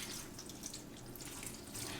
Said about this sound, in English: And now I'm going to eyeball the water that I'm going to put into the pan.